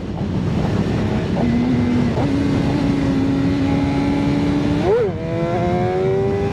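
A motorcycle engine hums at a steady pitch during a second-gear clutch-up, climbs gradually, then gives a sharp rev near the end before settling into a higher drone, all loud and close under a broad rumble.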